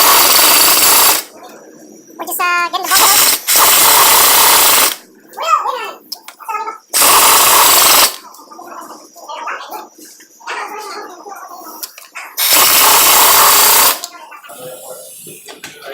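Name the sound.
power tool removing Jeep JK driveshaft bolts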